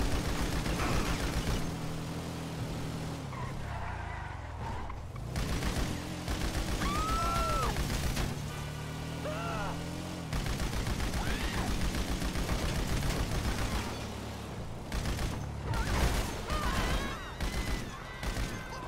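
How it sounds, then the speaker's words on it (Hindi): Dense machine-gun fire in GTA 5, rattling on in loud sustained bursts with brief gaps, plus booming impacts and scattered game effects, all filling the mix without pause. "ये मशीन गन तो मजेदार है"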